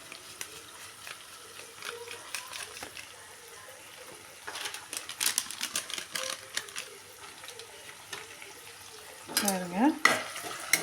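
Turkey berries being stirred and fried in a pan with salt, chilli powder and sambar powder, giving a soft continuous sizzle broken by scraping stir strokes, with louder clatters toward the end.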